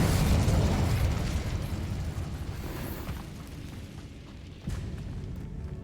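Confringo spell explosion in the Hogwarts Legacy video game erupts as a loud, rumbling boom that slowly decays over several seconds, with a fresh burst of crackle near the end.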